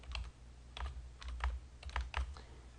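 Typing on a computer keyboard while entering text into an Excel spreadsheet, a close run of distinct key clicks in short bursts with brief pauses and no talking.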